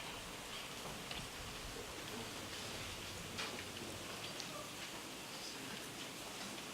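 Rain falls steadily at an outdoor naturalisation ceremony, a faint, even hiss of drops with scattered soft ticks and no voices.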